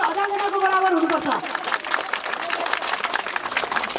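Audience applause for a chief guest at a devotional ceremony with a spiritual leader: a voice speaks briefly, then steady, dense clapping from a crowd continues to the end.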